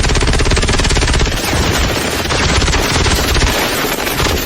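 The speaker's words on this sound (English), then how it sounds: "Open fire, boys." Loud, continuous gunfire from a group of shooters opening fire together, a dense overlapping barrage of rapid shots that fills the whole stretch without a break.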